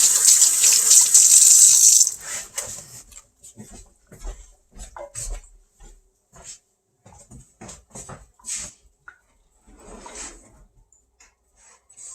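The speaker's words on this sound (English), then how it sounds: "I'll be right back after I wash my hands." Tap water runs loudly into a sink for about two seconds as hands are washed, then stops, followed by scattered small knocks and splashes in a quiet room.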